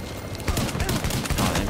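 A rapid burst of automatic gunfire in the shooter Tom Clancy's The Division, with close, loud, overlapping shots packed tightly together.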